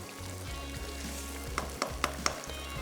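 Onions fry in a pan while a samosa thaali is being cooked, giving a soft, steady sizzle with a few light taps of stirring near the end.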